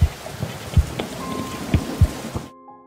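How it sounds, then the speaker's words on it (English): Steady rain falls in a thunderstorm, with several low thunder rumbles booming through the downpour before the sound cuts off abruptly at the end. "Both stood in the rain."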